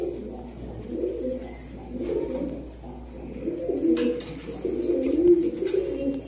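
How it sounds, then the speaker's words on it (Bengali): Black high-flying pigeons of an expensive breed, kept indoors in a loft, coo in low, repeated throaty rolls that rise and fall close by with no talking. "দারুণ দারুণ পায়রা, এগুলো এক্সপেন্সিভ পায়রা"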